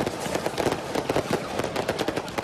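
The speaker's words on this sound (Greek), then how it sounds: "άναψαν πυρσούς και έριξαν πυροτεχνήματα" Fireworks and flares set off by about 400 AEL football fans on the pitch of Tsirio Stadium during a 90th anniversary celebration, heard as dense, continuous crackling bursts with no talk.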